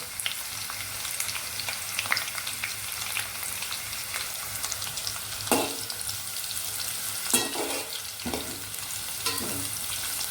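Bitter gourd pieces frying in oil on a low flame, a steady close sizzle and crackle throughout with a few sharper pops and stirring scrapes, no voices.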